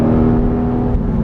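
Porsche 911R on a test drive, a loud close engine drone with a strong steady tone and rough low rumble held evenly for a moment, no voices.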